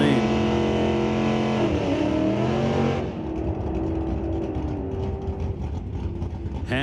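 A big D-Stock Buick drag car and another racer launch and scream down the strip at a Mission Raceway NHRA Northwest National Open meet, loud engine harmonics climbing then fading into distant rumble, with an announcer talking throughout.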